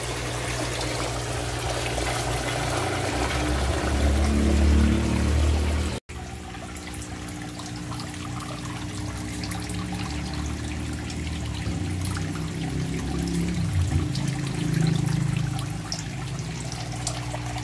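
Water drains from a backyard fishpond in a steady, continuous gush and trickle, loud and close, pausing abruptly for a moment at about six seconds before the flow resumes.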